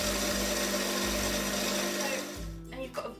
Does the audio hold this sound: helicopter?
no